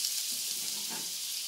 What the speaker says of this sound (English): We got a hot frying pan here. Gonna take some butter.